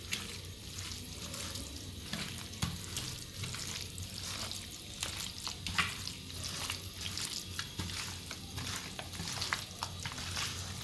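Raw chicken is mixed by hand with turmeric and cumin powder, making a steady, close, wet squelching and rustling with no talking.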